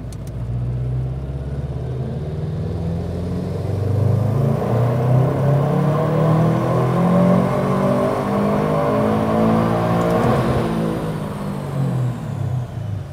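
A tuned car engine revs hard on a dyno during a pull, a loud sustained roar that climbs in pitch, holds near the top and then drops off, heard alone and close.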